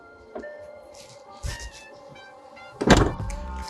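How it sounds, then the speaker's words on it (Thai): Power tailgate on an MG HS PHEV closing: a soft thunk, a brief motor whir, then a loud latching thud near the end, heard alone with no talk. "ลองกดหนึ่งที่เพื่อปิดประตูท้ายค่ะ"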